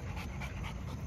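A dog of a large guarding breed pants steadily in quick rhythmic breaths, close to the microphone and fairly loud, with no talk over it.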